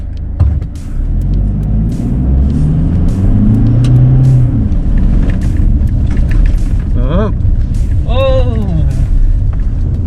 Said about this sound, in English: we're just gonna turn it into all-wheel drive mode